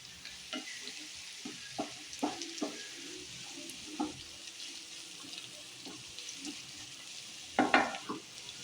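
Green chillies and ginger are stirred in a pan, giving a faint sizzle broken by scattered soft spoon clinks and scrapes, with a louder burst of stirring near the end.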